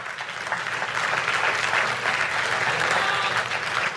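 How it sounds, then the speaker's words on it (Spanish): A congregation claps loudly and steadily for the Lord at a church service, a dense, sustained wash of applause with no break across the whole stretch. "Denle el aplauso fuerte al Señor"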